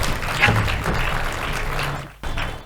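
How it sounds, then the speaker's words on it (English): An audience applauds at the Jaipur Literature Festival as Vir Sanghvi and Mandira Nayar come on stage: a dense, steady wash of clapping that briefly drops away near the end, then resumes. "Give them a big round of applause, ladies and gentlemen."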